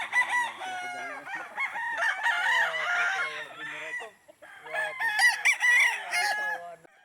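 Gamecocks crow loudly and close by after a sparring training session, two long crowing calls with a brief pause between, mixed with clucking.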